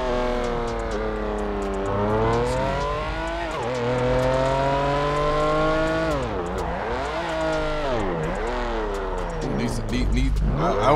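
A Ferrari Purosangue SUV with a 6.5-liter V12, driving in GTA 5 on a snowy road, revs loudly with rising and falling engine pitch through gear changes, its harmonics sweeping up and dropping repeatedly while a voice talks alongside.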